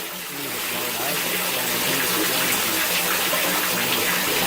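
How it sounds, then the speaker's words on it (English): Rainwater gushes and splashes into a backyard French drain, a loud, continuous rushing flow that swells slightly in the first second and then holds steady. "It's running to the drain, and the drain's just moving the water."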